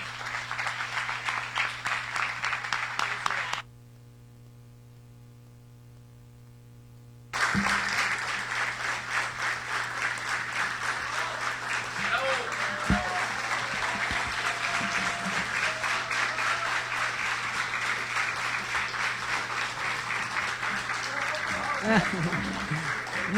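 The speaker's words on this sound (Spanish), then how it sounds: "Muy merecidos esos aplausos" An audience at a book presentation breaks into dense, sustained applause that fills the room, interrupted early by a few seconds of near silence before the clapping resumes just as strongly and carries on to the end.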